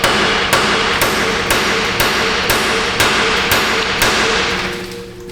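Steady, evenly spaced hammer blows ring out on a socket-whacking tool fitted over a stuck lower ball joint bolt on a Nissan Frontier, about nine loud, close metallic strikes, each roughly half a second apart, before it fades.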